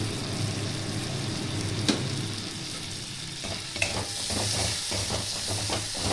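Turmeric, dried chili and salt stir-fry in oil for a ridge gourd, poppy seed and prawn dish. A low steady sizzle runs throughout, broken by a few sharp spatula knocks and a burst of scraping, stirring strokes near the end, with no voices.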